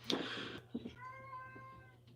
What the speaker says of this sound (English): You can let that cat out of the bathroom.